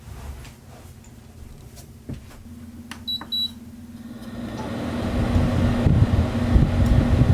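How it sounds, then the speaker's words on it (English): A loud hotel air conditioner runs with a steady low hum and broadband roar that swells louder over the clip, with a few brief beeps partway through and no talk. "The hotel I'm staying in has this super loud air conditioner"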